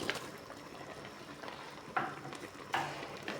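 Onion dropped into a pot while cooking beef pata nilaga, beef shank simmering; a couple of soft thuds and stirring sounds over a low sizzling, bubbling background, close and fairly quiet.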